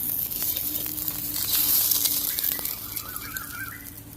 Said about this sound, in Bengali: এবার এটা হালকা আঁকে হতে ভাজা হতে থাকবে আস্তে আস্তে এই পোচটা